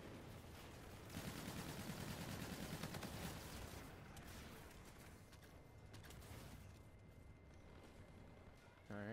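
Rapid hip-fired gunfire in a shooter game crackles as dense automatic bursts under a chaotic mix of game effects, loud at first and then thinning out, with faint talk.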